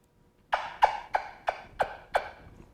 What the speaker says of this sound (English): The Native Americans had their version with a wing bone turkey call.